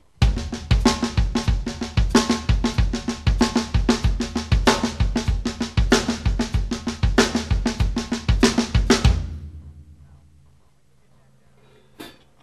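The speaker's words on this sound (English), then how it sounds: "Now the left hand plays opposite the bass drum." Steady drum kit groove with bass drum alternating against a left-hand snare backbeat, close and loud, played for about nine seconds before ringing out into a quiet decay.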